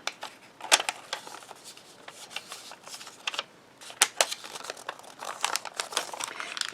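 Paper wrapped around the front of a letterpress card, close crinkling and soft rustles with a few sharp crisp snaps and taps scattered through, no voices.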